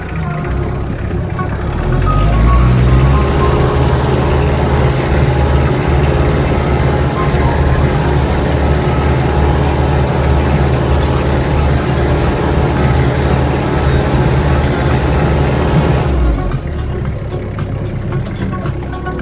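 A tractor pulls a Ukrainian-made plough in second gear, its heavy engine droning loud and steady close by from start to near the end, then easing off into quieter rumble.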